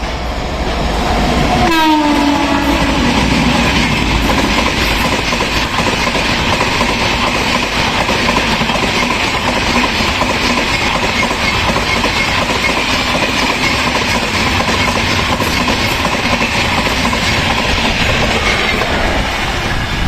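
An overtaking express train roars past on Indian railway tracks near Tughlakabad yard, its horn blaring early on, followed by a continuous loud rumble and clattering of wheels over the rails.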